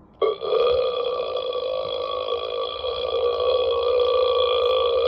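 A prank belch sound played through an MP3 doorbell, one long continuous burp-like tone that starts after a brief pause and holds steady and loud for nearly five seconds.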